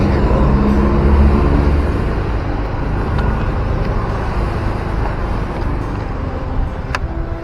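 Busy holiday traffic on the Padang–Bukittinggi road, heard from above on a flyover, as a constant broad roar of passing cars and heavier vehicles, with a brief sharp squeak near the end.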